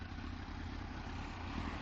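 A Kawasaki Z1000 motorcycle fitted with a loud exhaust idles at an MOT test, a steady low engine rumble with no other sounds.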